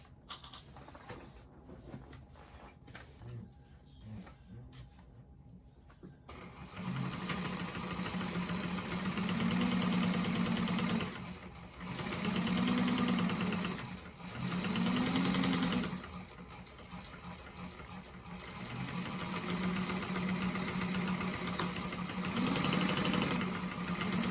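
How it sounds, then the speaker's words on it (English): A sewing machine stitches a quarter-inch seam along the top of a bag, running in several bursts of steady whirring with short pauses, after a quieter stretch of handling at the start. "we're going to sew along that top with 1/4 of an inch seam allowance"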